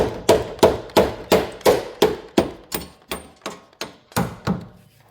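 A hammer taps a Jaguar XK8 front suspension part during an overhaul, a steady series of about eleven sharp metallic knocks, evenly spaced and close, each ringing briefly before the next.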